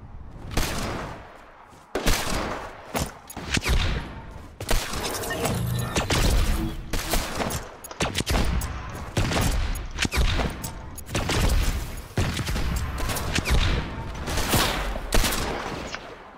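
Rapid gunfire bursts from a Fortnite Creative map, sustained volleys of shots and impacts cutting in and out almost continuously, loud and close, with brief gaps between bursts.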